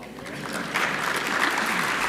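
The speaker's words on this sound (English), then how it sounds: "Yes, you can applaud." Audience applause fills a hall during a city's State of the City address, a steady broadband clatter of many hands that swells louder partway through and holds, with some voices mixed in.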